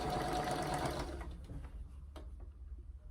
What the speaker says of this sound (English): we're stitching the binding down to the front